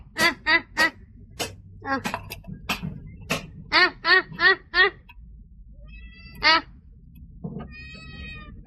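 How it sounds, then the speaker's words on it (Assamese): A duck quacks while being fed rice, loud and close, in short clustered runs of harsh calls with brief pauses between them, plus a few fainter, more scattered calls later. "হাঁহটোক দিছোঁ, ভাত দি মাতি আছোঁ আহিব খাবৰ কাৰণে ভাতকেইটা।"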